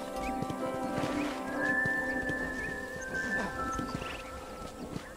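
Horse in Red Dead Redemption, clip-clopping hooves with a long neigh and whinny near the middle, set against a game's ambient backdrop, no talk.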